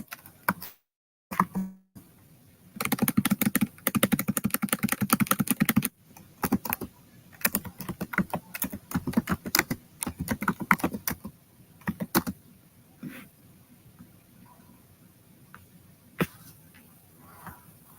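Rapid clatter of keys on a computer keyboard, close and steady in bursts, with short pauses and quieter stretches toward the end.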